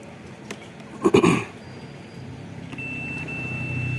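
A steady, high-pitched multimeter continuity buzzer beep, tested on an LED TV motherboard, starts partway through and holds unbroken to the end, after a brief clatter of handling.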